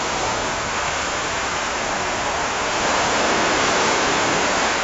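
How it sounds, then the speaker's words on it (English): AI-generated ocean waves crashing, heard as a steady, loud broadband roar of surf that continues unbroken for about five seconds, swelling slightly toward the end, with no voices over it. "Ocean waves crashing again."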